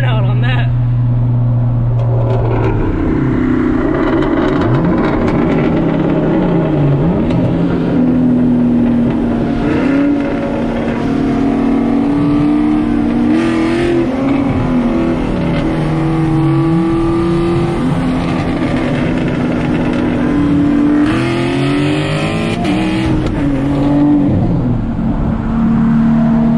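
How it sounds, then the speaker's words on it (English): A car does a burnout with a Camaro V8 as a likely source. The engine roars and revs hard and continuously at close range, with pitch rising and falling, and people talk over the noise. "Doing a burnout on that."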